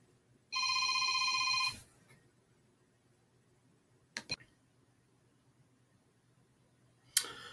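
A telephone rings once with an incoming call, a bright electronic trill lasting about a second in a quiet room, followed by a few faint clicks and a handling thump.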